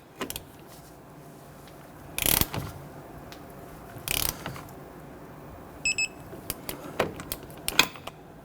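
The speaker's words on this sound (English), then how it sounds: "going to torque down the strut bolts and nuts to the knuckle" Torque wrench tightening rear strut bolts and nuts to the steering knuckle on a 1992-1996 Toyota Camry, giving several sharp ratcheting clicks and a few louder clacks, close by with no talk.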